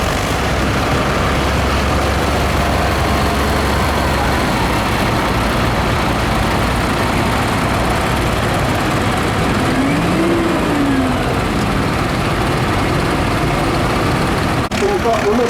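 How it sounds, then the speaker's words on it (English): Four-cylinder Leyland diesel tractor in an arena parade at an agricultural show, its engine droning steadily and loudly throughout amid busy outdoor crowd noise, with a brief higher whine sweeping past midway. "This is the Leyland's four-cylinder diesel tractor."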